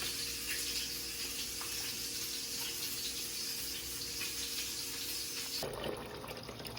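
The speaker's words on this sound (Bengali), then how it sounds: "ডালটা সুন্দর করে ধুয়ে নিতে হবে।" Lentils (masoor, mung and chana dal) washed under a steady stream of running tap water in a sink, a continuous close rushing splash that changes tone near the end.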